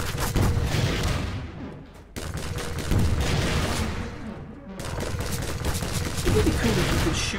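Gunfire in the Bridgeville: Time Bridge video game comes as dense, loud bursts of rapid shots with short lulls between them, layered with booming impacts.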